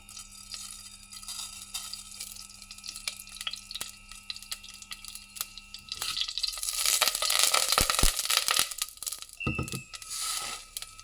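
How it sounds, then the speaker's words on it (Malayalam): Mustard seeds splutter in hot oil for a bamboo shoot curry. Faint clicks and hum give way about halfway to a loud, close burst of crackling and popping sizzle that surges and then tapers. "കടുക് പൊട്ടിക്കാം"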